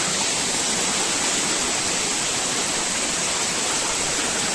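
Water rushes and splashes among rocks on Girnar mountain, a steady close broadband roar with no pauses.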